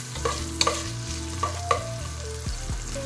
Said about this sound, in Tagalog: Naglagay ako ng oil. Una ko yung luya guys.